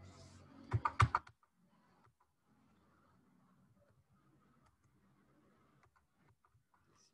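Quick burst of computer keyboard typing, a handful of close, sharp key clicks in the first second, then near silence with only a faint low background hum.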